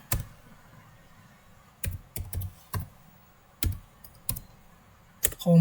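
Keystrokes on a computer keyboard while code for a calculator program is typed, coming as scattered single clicks and small clusters with pauses between, close and clear with no talk.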